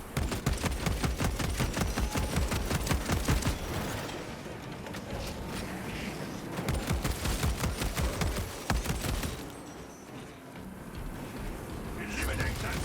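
Rapid, dense bursts of Bolt Carbine gunfire from a Saber video game rattle in long fusillades, broken by a short lull, with a voice speaking over the shooting.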